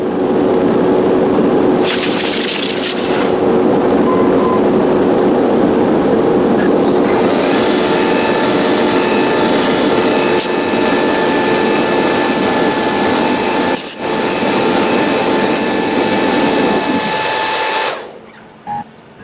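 A loud, continuous mechanical roar from a machine cutting wood for a cheeseboard holds for about seventeen seconds, broken by a brief dip, then winds down to near silence.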